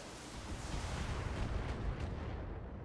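Mech weapons all firing together in the tactical game BattleTech, a loud sustained barrage of booming, crackling discharges with deep rumble, fairly close and unbroken for a few seconds.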